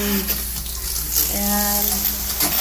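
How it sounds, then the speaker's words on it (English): Water spraying from a push-button sensation shower in a spa hydrotherapy area, a steady hissing rush of spray that continues throughout, with brief voices and tonal sounds mixed in near the middle. "the water comes out and hits a different trigger point"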